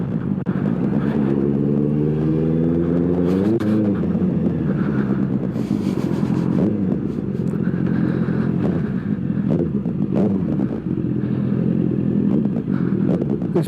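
A motorcycle filtering through traffic toward the front of a queue, its engine droning and rising in pitch under steady wind buffeting, with brief revs and passing vehicle noise throughout.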